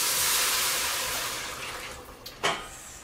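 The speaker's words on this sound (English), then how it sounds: "I'm going to add another 2 cups of water to give me my 6 cups" Water poured into a soup pot for vegetable bouillon, a steady close splashing stream that tapers off, then a short final gush near the end.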